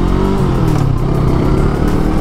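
An FKM Express 500 SC motorcycle with a 500cc engine accelerates in first gear, its loud, close engine note climbing steadily in a continuous rising drone with no talking.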